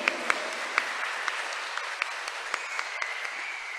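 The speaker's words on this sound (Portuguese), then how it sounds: "Reage com uma salva de palmas," Church congregation applauding during a Mass homily, a soft, fairly distant patter of many hands with a few sharper claps standing out, steady throughout and without talk.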